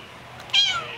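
A single cat meow, short and fairly close, rising out of a quiet background.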